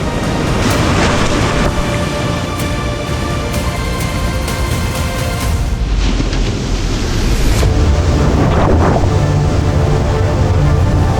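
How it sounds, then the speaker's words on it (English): Big ocean waves break around a camera held in the water, a continuous loud roar of surf and churning water with bursts of spray and wind buffeting close to the microphone. "And this is a good size wave. That is a big wave."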